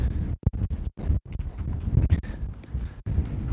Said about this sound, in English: God, I hate these days when it's a little bit windier than normal.